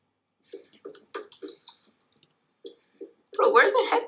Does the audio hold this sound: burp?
no